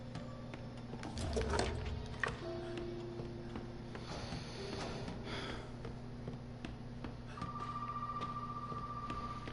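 Telephone in Resident Evil 7 ringing faintly with a steady electronic tone, set among low game ambience and hum, with no talking.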